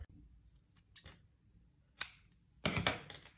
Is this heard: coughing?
no